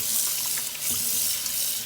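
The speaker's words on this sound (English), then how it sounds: "I'm just washing it, well, rinsing it with water, and just let it go through it" Tap water runs steadily into a drainer holding raw chicken, a continuous splashing hiss that stays loud and even throughout with no talking.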